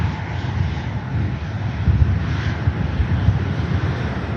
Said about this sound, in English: the Qatar A350 outbound return leg to Doha